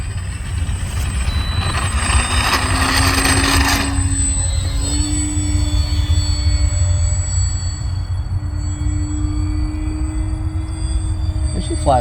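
An FMS Ranger V2 1220mm RC plane takes off in stabilized mode, its electric motor whining steadily and loud at close range, the pitch climbing slightly amid wind rush.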